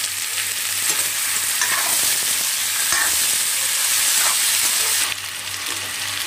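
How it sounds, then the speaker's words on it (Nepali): Potatoes and onion fry steadily in a pan with salt, with a continuous loud sizzle and repeated scraping stirs throughout, no talking. "प्याज यत्तिको भुटिसकेपछि मैले चाहिँ यसमा आलुलाई पनि राख्छु"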